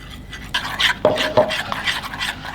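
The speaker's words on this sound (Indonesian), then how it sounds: "Terigu 150 gram larutkan dengan air tuang sedikit demi sedikit sambil diaduk" Flour and water batter, 150 grams of flour, being whisked by hand in a bowl, giving brisk, close scraping and sloshing strokes with a couple of sharp utensil clinks against the bowl, no talking.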